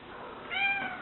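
A pet cat gives a single short meow up close in a quiet indoor room, with faint background hiss.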